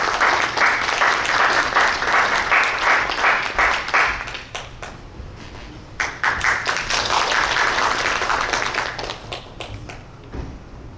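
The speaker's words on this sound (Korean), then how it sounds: "박수로 맞이해 주십시오." An audience at a Korean animation industry evening applauds to welcome a production company's chief executive to the stage: loud, dense clapping that thins out around the middle, surges again and then tapers off, with no talking.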